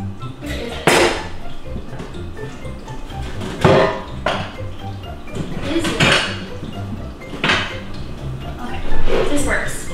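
Kitchenware clattering as someone rummages for a measuring cup, with several sharp clinks and knocks of dishes and utensils at irregular intervals, close by and under intermittent talk.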